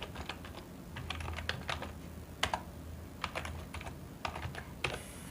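Keys tapping on a computer keyboard while names are entered into a Microsoft Word list, a steady run of light, irregular clicks with brief pauses, close and fairly quiet over a low hum.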